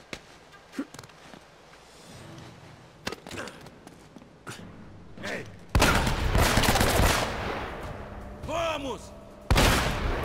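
Bursts of gunfire in the video game Uncharted: Drake's Fortune crack out in irregular volleys, some single shots and some rapid strings, with a voice talking in between and heavy rumble late on.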